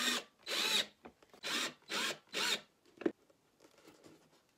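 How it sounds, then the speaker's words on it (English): Screw driven into a foam cosplay helmet visor by a power driver, five short whirring bursts in a row followed by a sharp click and faint handling noise, close and alone. "I'm just gonna put this screw in there."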